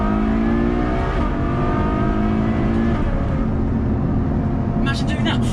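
A Ferrari GTC4 Lusso with its V12 engine revs close by, its loud sonorous exhaust tone climbing and holding in steady harmonic bands, with a brief clatter near the end.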